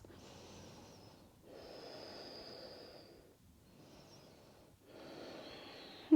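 Steady breaths during an intermediate full-body vinyasa yoga flow, long airy inhales and exhales alternating at a slow even pace, close and soft, no talking.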